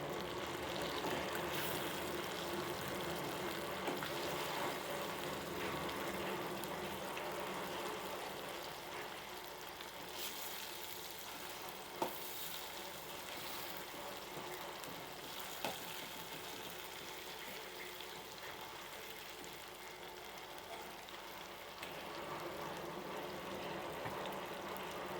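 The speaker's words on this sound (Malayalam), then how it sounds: "ഇനി നമുക്കിത് പൊരിച്ചെടുക്കാം." Fish frying in a pan, a steady low hiss and bubbling sizzle that stays even throughout with a couple of faint clicks and no voices.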